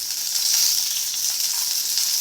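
Curry leaves crackle and sizzle loudly in hot oil with cumin, sesame seeds and cut green chillies, a steady close frying hiss throughout with no talking.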